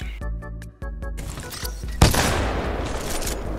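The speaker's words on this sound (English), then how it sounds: "Bro, stop using a pistol!" In the video game Titanfall 2, a pistol is fired in quick succession with short sharp cracks, and the shots blur into a louder burst with a strong boom toward the end.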